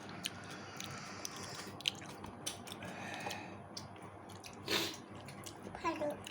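A two-year-old toddler bites into and chews watermelon, giving soft wet squishing and munching sounds close up, with occasional babbling and a brief louder splash of moisture amid low background noise.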